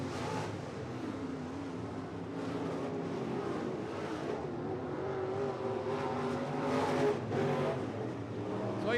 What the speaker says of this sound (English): Checkered flag coming out for Spencer Long.